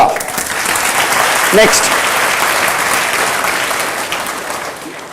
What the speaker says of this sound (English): Give her a big clap, sir